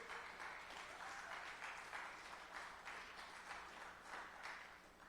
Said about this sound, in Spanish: Denle una ofrenda de palmas al Señor, hermano, anímense.